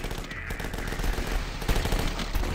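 Machine gun spraying fire in The Last Stand video game, a loud continuous rapid burst of shots without pause, close and dominant.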